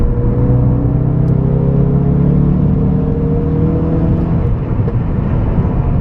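A 375bhp Ford Focus RS Mk3 accelerates on the road from inside the cabin, its engine a steady loud rumble with rising and falling tonal whine that continues throughout without speech.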